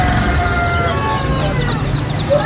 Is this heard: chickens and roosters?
yes